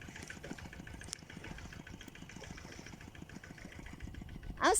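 Engine of a water pump running steadily at a low, even rumble, moderately distant, with a brief louder sound at the very end.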